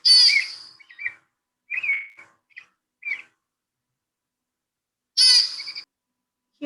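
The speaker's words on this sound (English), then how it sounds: "Here is an example of an adult pika making a short call." An adult American pika gives several short, sharp squeaky calls in quick bursts, clear and close, with a longer pause before a final call; faint bird sounds in the background.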